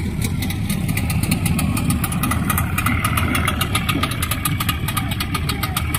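A longboat racing boat's engine runs at a steady, loud idle-like throb with rapid regular firing pulses throughout and no talk.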